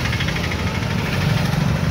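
A motorbike engine idles steadily nearby, giving a continuous low, rough rumble with a slight knocking throb and no voices over it.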